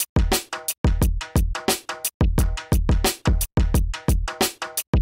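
A layered hip-hop drum loop in an organic beat, with punchy kicks and snappy hits in a steady, choppy rhythm, the pattern repeating loudly and alone with short gaps between hits.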